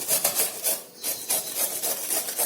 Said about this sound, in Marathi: छान कोवळ्यातल्या काकड्या सोलून झाल्या आहेत आता यांना आपण किसून घेऊया छान प्रकारे